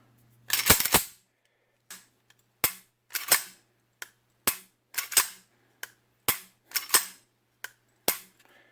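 A Grand Power Q100 pistol with a modified trigger gives a series of about a dozen sharp, snappy clicks at irregular intervals, close and crisp against a silent background, with no talking.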